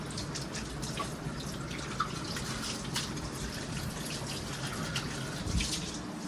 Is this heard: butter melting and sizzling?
no